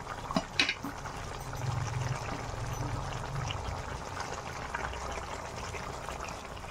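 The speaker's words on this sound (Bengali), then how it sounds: "আর অল্প একটু জল দেবো, কারণ একটু আলুগুলো সিদ্ধ হবে।" Water is poured into a chicken masala with potatoes. A few knocks come first, then a steady, soft pouring and bubbling runs through to the end, fairly close.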